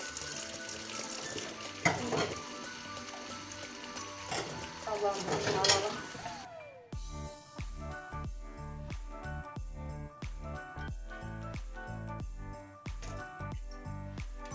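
Dishes washed by hand under running hot water, with a hissing, splashing stream and faint clinks of dishes for about seven seconds before a rhythmic musical track takes over.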